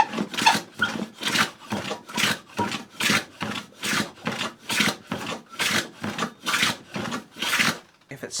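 A wooden moving fillister plane makes about fourteen rhythmic rasping strokes across wood, close and steady, each pass scraping with a dry, squeaky edge.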